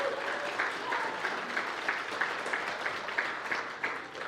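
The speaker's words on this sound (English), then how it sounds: "Let's give them a round of applause because I can't thank them enough" Audience applauding at a church weekend gathering, a steady, moderately distant patter of many hands clapping that keeps an even pace throughout with no voices standing out.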